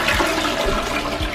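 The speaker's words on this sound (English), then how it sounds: "let's just see a regular flush" A Japanese electronic toilet does a regular flush, a short close-up rush of swirling water lasting just over a second, loud and continuous with no talking.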